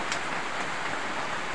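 Steady hiss of rain close by, with faint scattered drips of rainwater leaking into a kitchen sink; no voices, a continuous even wash of water sound throughout.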